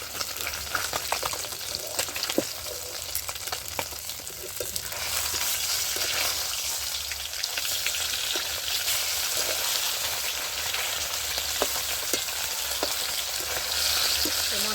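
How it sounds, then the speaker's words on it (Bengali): Loud, continuous frying sizzle of fish pieces in crackling oil, with occasional clicks of a utensil, steady throughout with no voices. "মাছটা আমি ছেড়ে দিয়েছি মাছটা এখানে ভাজা হতে থাক"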